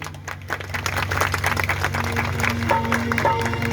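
A crowd claps at a Hindu devotional jagran singing event, sustained applause with a sustained musical drone and tones running underneath, building slightly louder toward the end.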